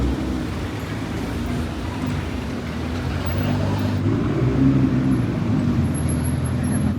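A Lamborghini Revuelto supercar idles with a low engine rumble amid traffic noise outside a mall car park, steady and moderately near, swelling slightly midway.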